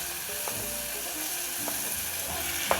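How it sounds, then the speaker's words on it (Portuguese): Garlic and tomato sauté in a pan with a steady, dense sizzle, broken by a few faint scraping clicks of stirring. "Então o alho já começou a refogar, vou colocar o tomate."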